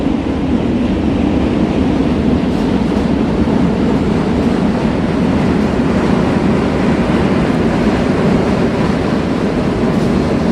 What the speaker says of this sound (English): There's another train going the opposite way.